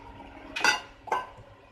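Two quick clattering drops of mango pieces into a mixer jar, a louder one followed by a softer one half a second later, close and otherwise quiet.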